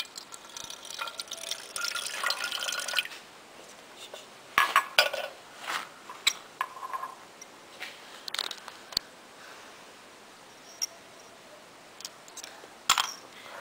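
Water poured into an aluminium soda can for a school science experiment, with clinking metal and hard tapping knocks from handling the can, busy at first and then broken into sparse clatters.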